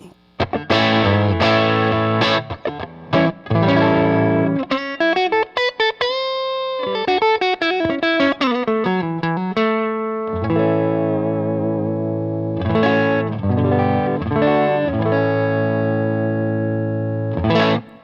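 Fender Vintera II Road Worn 60s Stratocaster on the neck pickup through a 6V6 tube amp, warm, slightly overdriven tone, melodic lines and chords with bends and sustained notes, loud and continuous, no talking.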